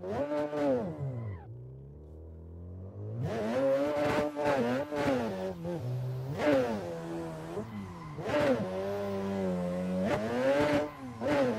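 Mazda RX-7 FD rotary engine in a racing video game, revving hard with rising and falling harmonic sweeps through gear changes, a brief drop near two seconds, then sustained high-rpm howls, loud and close with no talking.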